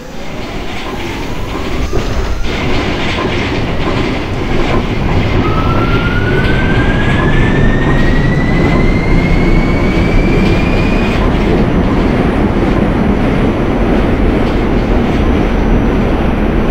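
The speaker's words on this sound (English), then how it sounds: "This is a Brooklyn-bound A train." An R46 A subway train heading toward Brooklyn in the OpenBVE train simulator, a loud steady rumble of wheels on rails with rhythmic clacking and a rising whine as the train accelerates, no voices.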